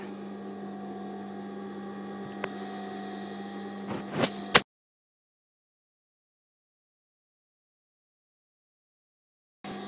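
A sewing machine stay-stitches cording inside bias binding for a throw cushion, giving a steady motor hum with a few clicks for about four seconds before cutting to silence.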